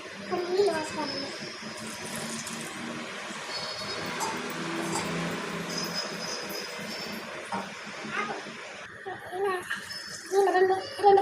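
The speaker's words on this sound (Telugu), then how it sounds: "కొన్ని నీళ్ళు పోసుకోవాలండి" Water is poured into a pot of soya chunk curry, a splashing, gurgling pour running under an ongoing spoken voice, with a voice and some clattering nearby.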